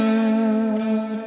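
Electric guitar played through a whammy bar with effects, meant as a soul-style bend into the third: one loud, held, buzzy note with echo that stays mostly steady and dips slightly near the end, alone with no talk.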